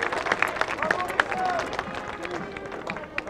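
A crowd claps in dense, continuous applause for the champions at a Clio racing podium at Nogaro, with a French-speaking voice carrying over the top.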